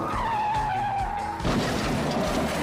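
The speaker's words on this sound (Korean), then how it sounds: "사고가 크게 나는데?" A car skids in a crash, with a sustained tire screech sliding downward in pitch before a harsher noisy burst takes over and rumbles on; no voices are heard.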